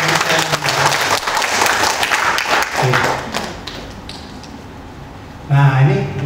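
Audience applause at a business presentation on transdermal and germanium health products, a dense wash of clapping for several seconds that thins out before a voice resumes speaking at the end.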